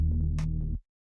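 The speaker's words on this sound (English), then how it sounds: "So I found this bass one shot here in vocal synth pop, and it sounds like this." A synth bass one-shot from a vocal synth pop sample pack: a single deep, sustained bass note with a brief bright burst partway through, then a clean cutoff into silence, played alone.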